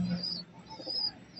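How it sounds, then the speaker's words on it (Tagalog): Racing pigeons that have just come home from a 212 km summer derby race in San Andres, Quezon coo softly at close range, with a few low throaty calls against faint background noise. "At ayan na yung ating mga kalapati na dumating."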